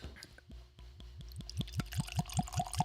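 Liquor pours from a Jefferson bottle in a run of rhythmic glugs that speed up and grow louder as the stream settles, close and clear with no talking.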